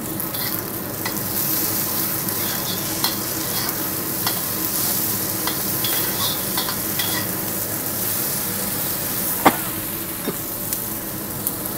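Petai beans and tempe stir-fry in a pan, giving a steady sizzling hiss with scattered clicks and scrapes from stirring, and one sharper clack near the end.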